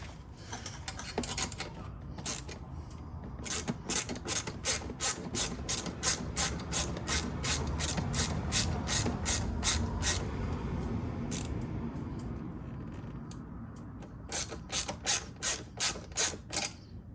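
Ratchet wrench tightening a bolt on an HMF exhaust fitted to a Suzuki LTZ 400 quad, steady rapid clicking strokes close up, trailing off and then resuming in short bursts near the end.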